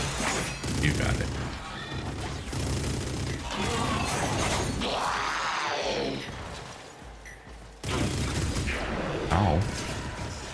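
Gunfire hits the player in the shooter game Warframe as dense, loud crashing impacts and shattering bursts fill the clip, and speech comes through in the middle.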